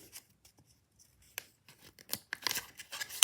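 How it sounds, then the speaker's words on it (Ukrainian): Close crinkling and tearing of a small plastic packet, quiet at first and growing louder with sharp rustles toward the end. "Зараз я відкрию свій пакетик."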